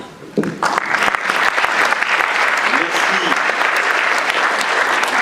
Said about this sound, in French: Et tout de suite, sous vos applaudissements, nous allons accueillir Günther Pauli